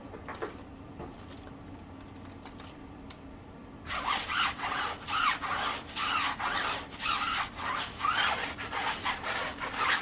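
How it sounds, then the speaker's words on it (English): A generic stiff tire brush scrubs a tire indoors: after a quiet stretch, a run of rhythmic, close, rasping back-and-forth strokes, each a coarse brushy swish repeating at a steady pace. "So first thing we're going to do is scrub the tire."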